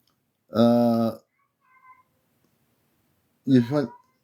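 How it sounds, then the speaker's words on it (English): A pet cat meows loudly and close by in two separate calls, a long drawn-out one followed by a shorter two-part one, with a faint chirp in between and quiet pauses. "My cat's talking. She says that's interesting too."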